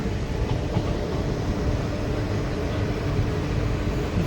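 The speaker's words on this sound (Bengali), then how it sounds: "আর আমাদের ট্রেন এবার আম্বাজোড়া শিকারিপাড়া স্টেশন ধীরে ধীরে এন্টার করছে" The Mayurakshi Express between Deoghar and Howrah slowly pulls into Ambajora Shikaripara station, giving a continuous low rumble and rolling rail noise, near and steady, with no voices.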